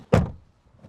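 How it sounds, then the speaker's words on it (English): The door of a 2026 Tesla Model Y Long Range shuts with a single close, dull thunk, followed by near silence. "And also let's close this door."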